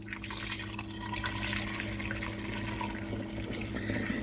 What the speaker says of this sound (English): notice I'm pouring it in slowly so it doesn't splash out, because it will splash out if you pour it fast.